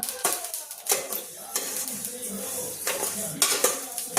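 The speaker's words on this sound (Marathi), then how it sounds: "चटचट असा आवाज येतोय तिळांचा." Sesame seeds roasting dry in a wok make sharp crackles amid repeated clinks and scrapes of a spatula stirring against the metal, close and fairly loud, with no talking.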